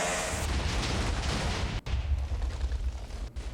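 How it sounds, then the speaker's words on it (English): Massive explosions from a space fireworks mod in a block-building video game, a dense continuous roar of booming blasts with deep low rumble, loud and sustained, with brief dropouts between bursts. "So now we get to see massive explosions coming in."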